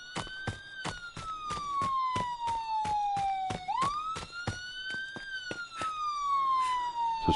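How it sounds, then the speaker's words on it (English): Police siren in the Friday the 13th video game, a wailing tone rising and falling alone over a sharp regular ticking beat. "You can hear the sirens, so she's heading for the exit."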